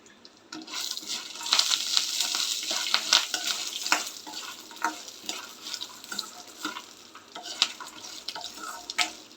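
Chopped green chillies sizzle in hot oil in a pan while peanut chutney is being made. The frying is a steady crackle with frequent sharp pops and some stirring, and it carries on without a break and without any voices.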